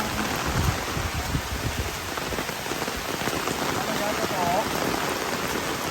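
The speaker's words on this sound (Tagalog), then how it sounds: "lumalakas po na lumalakas ang ulan" Steady, heavy rain pours down, a dense continuous hiss of drops hitting surfaces, loud and close, with faint voices beneath it.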